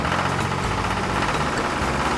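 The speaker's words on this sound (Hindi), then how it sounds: "दूसरे दिन से रमेश सभी गांव वालों का खेत की जुताई करना चालू कर देता ह" A tractor engine runs steadily while plowing a village field, a loud continuous low-pitched rumble with a slight knocking throb and no pauses.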